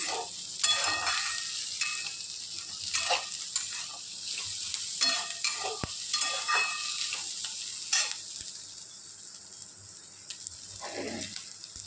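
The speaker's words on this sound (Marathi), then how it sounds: "मसाले चांगले भाजले गेले की भाज्यांना कलर देखील छान येतो आणि तेल पण छान सुटतं." Spices roast in hot oil for egg curry with a bright sizzle that swells and fades as a spoon stirs in repeated bursts, scraping the pan, before the frying settles lower.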